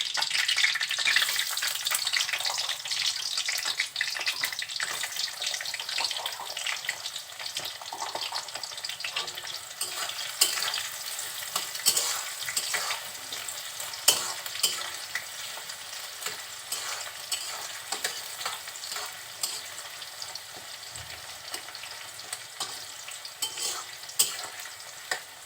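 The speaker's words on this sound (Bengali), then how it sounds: "এখন দিয়ে দিচ্ছি কিছু পেঁয়াজ।" Onions frying in oil for a spicy chicken curry, a continuous close sizzle with scattered crackles and light stirring scrapes running through the whole stretch.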